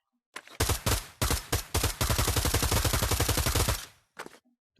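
Rapid bursts of virtual gunfire on a shooting range in Pavlov VR, a few separate shots followed by a sustained fast automatic volley of evenly spaced loud cracks, then a short final burst.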